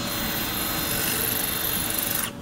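A power drill bores into tile with a loud, continuous high whine and grinding rasp, steady close up for about two seconds before cutting off abruptly.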